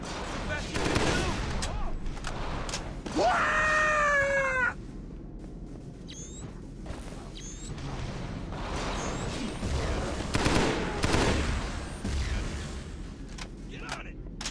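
Rapid gunfire rattles through a space battle in the video game Halo CE SPV3, with bursts under excited voices and an alien shriek, and weapon fire continuing through most of the stretch.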